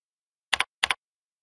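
Two quick double clicks on a computer keyboard, close and crisp, separated by a short pause in an otherwise silent room.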